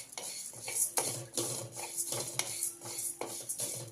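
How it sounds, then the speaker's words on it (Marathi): Urad dal dry-roasting in a pan for chakali flour, stirred with a utensil in repeated scraping strokes that rasp and clink against the metal, close and fairly quiet, with no talk. "उडीद डाळ पण आपण डाग पडेपर्यंत चांगली भाजून घ्यायची."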